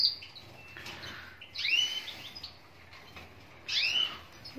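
A male goldfinch gives a few separate bursts of high, twittering chirps with quiet gaps between them, close and moderately loud.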